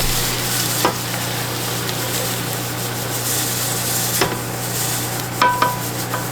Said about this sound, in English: I'm going to put them into our pressure cooker.